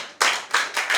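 A class applauds in a short burst of claps, three quick swells of hand claps close by with no talking.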